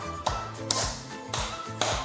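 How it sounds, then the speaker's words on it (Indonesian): Hands clapping a simple rhythm, four crisp claps spaced about half a second apart, close and clear over a faint background. "Bunda tepuk tangan ya. Ikuti iramanya ya."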